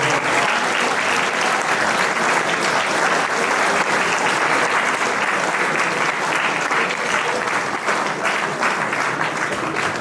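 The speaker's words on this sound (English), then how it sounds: "Please give them a round of applause." A school elocution audience claps for the judges in dense, loud, sustained applause that holds steady for the whole stretch without letup.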